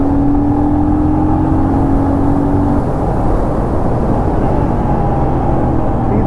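A Royal Enfield Scram 411 motorcycle engine-brakes on the road. A loud, continuous engine drone and rushing wind fill the whole stretch, and an engine tone slowly falls before fading into the roar.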